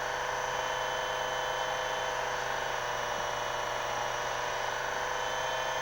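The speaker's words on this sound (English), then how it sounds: "We continue the taper turning." A watch balance staff being taper-turned on a small lathe with very light cuts gives a steady, continuous whine and hum that stays even and close throughout, with no talking.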